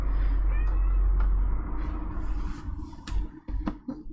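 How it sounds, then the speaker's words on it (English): Cats meow from another room, several distinct cries rising over a low steady hum, somewhat distant and muffled but clear. "You might hear the cats."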